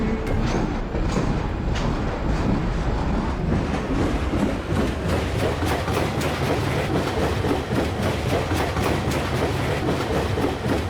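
A train runs along the track in Garry's Mod, a continuous rumbling clatter with rhythmic clicks of wheels over rail joints, loud and steady throughout without talk.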